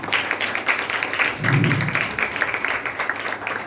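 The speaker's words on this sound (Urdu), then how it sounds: "ہم زوردار تالیوں سے تعاون کریں گے" Applause from a church congregation during a Sunday service, a steady, dense wash of many hands clapping together that holds at an even loudness throughout.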